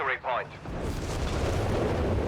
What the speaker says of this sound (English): Firing its 2-pounder gun at the German infantry there.